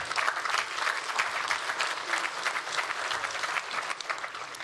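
Audience applause at a technical conference session on .NET services architecture, a steady crowd of many hands clapping throughout, moderately close and continuous with no talk over it.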